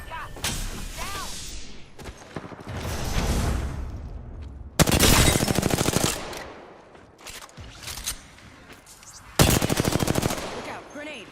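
Rapid automatic gunfire from a video game, arriving in several loud bursts with gaps between them, the heaviest volleys near five and nine seconds, mixed with thuds and game effects.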